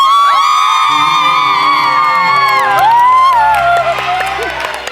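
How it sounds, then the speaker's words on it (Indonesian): On the Indonesian game show Family 100, a studio crowd cheers, whoops and applauds loudly without a break, with shrill shouting voices on top that fade slightly toward the close. "mana tepuk tangan?"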